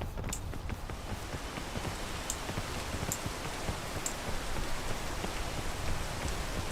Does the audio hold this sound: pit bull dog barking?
no